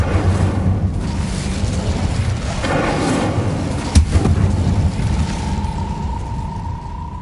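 A fire spell cast in the Hogwarts Legacy video game, a dense roaring burst with a sharp thump near the middle, followed by a sustained rumbling whoosh and a faint steady tone toward the end.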